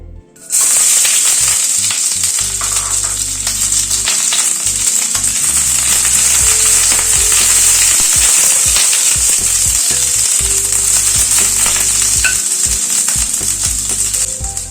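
Onion petals frying lightly in white oil in a wok on a gas stove, a loud, steady sizzle that runs without break, with occasional stirring scrapes.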